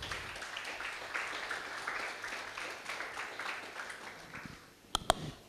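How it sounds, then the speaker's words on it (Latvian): Audience at a Latvian science café lecture applauds to welcome a speaker, a dense, steady clapping from a room full of people that gradually fades, ending with a couple of sharp, close knocks. "Saņemiet viņu ar aplausiem."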